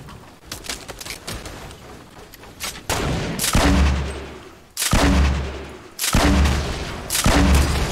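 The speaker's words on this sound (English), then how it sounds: "there's a guy right here shooting at me" Video game gunfire rings out in a few heavy booming bursts with deep rumbling, building louder after a quieter, noisy opening, with no talking over it.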